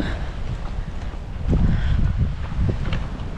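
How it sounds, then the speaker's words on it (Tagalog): Strong outdoor wind buffets the microphone in irregular low rumbling gusts, loud and close, swelling midway with no clear voices. "Lakas ng hangin."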